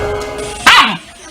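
A pet dog lets out one short, sharp bark or yelp with a falling whine, fairly close, over a low background murmur.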